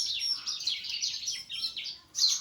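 Bar-winged prinia (ciblek) chicks chirp rapidly and continuously in high, close, insistent bursts, with a short pause before a final loud call.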